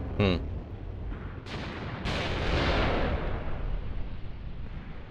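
Gunfire and artillery fire in the WWII battle game Mius Front: a sharp crack, then two heavy booms that roll out into a long rumbling decay, with faint voices underneath.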